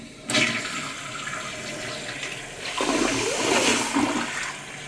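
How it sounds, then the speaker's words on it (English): A toilet fitted with a new flapper flushes with a sudden loud rush of water, then a steady swirling drain and refill that swells again toward the end, close by and without talk. "Okay, that looks like a good flush. Got the new flapper in. Everything's flushing good."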